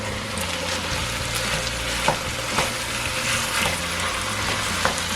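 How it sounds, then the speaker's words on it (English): Ground beef fries in a pan over medium-high heat, a steady close sizzle broken by a few sharp scraping clicks as the meat is crumbled and stirred. "Now we're gonna go ahead and add our beef, our ground beef, and we're gonna just cook this up. Make sure it's nice and crumbled."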